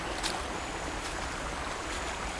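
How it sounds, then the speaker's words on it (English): Small waterfall stream in a Singapore nature reserve, a constant broadband rush of falling water, close and steady throughout the short stretch, with no voices. "I love a little waterfall"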